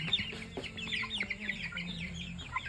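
Three-week-old Cornish Cross meat chickens cluck and peep softly in a busy, overlapping chatter with faint rustling, all quiet and close in a coop.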